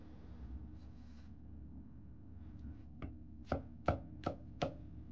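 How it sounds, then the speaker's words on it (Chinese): A chef's knife cuts through a tomato onto a cutting board: a soft slice, then four crisp evenly spaced chops, close and quiet with no talk. "接着来改刀，先从中间一切为二，再把西红柿的蒂去掉不要"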